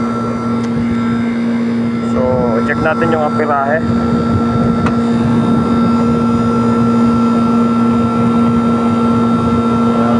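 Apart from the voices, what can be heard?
electric motor running after capacitor replacement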